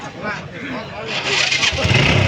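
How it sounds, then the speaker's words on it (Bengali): An old used motorcycle being started at a second-hand bike market in Joypurhat, its engine catching and rumbling louder under close talking voices. "একটু চালু করেন দেখি এটা ইঞ্জিন কীরকম আছে"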